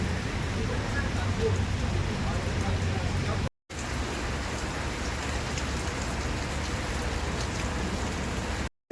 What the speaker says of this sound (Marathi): ॲक्च्युली पाऊस जास्त पडतोय